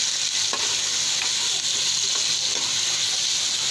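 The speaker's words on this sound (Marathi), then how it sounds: "त्याला छान तेलामध्ये फ्राय होऊ दे. बघा तर मस्त फ्राय होऊ दे." Ridge gourd fries in hot oil in a kadhai while it is stirred, a loud, steady, dense sizzle with faint scraping strokes of the spoon, continuous and close.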